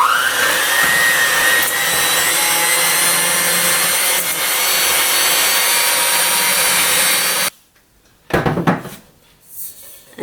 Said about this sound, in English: Now we're going to use my handy dandy electric mixer here to cream the butter and the honey together.